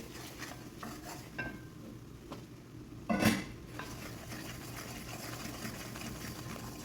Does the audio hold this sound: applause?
no